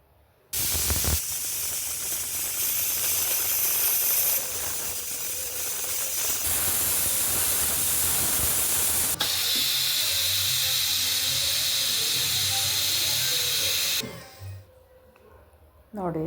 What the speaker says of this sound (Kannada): ಒಂದು 3 ವಿಸಿಲ್ ಕೂಗಿಸ್ಕೊಳ್ಳೋಣ.